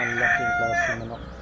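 A rooster crows loudly nearby, with chickens clucking around it in a short burst.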